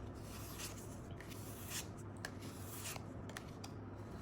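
Oracle cards shuffled close up, a soft continuous papery rubbing and sliding with faint brief card flicks, quiet and without talk.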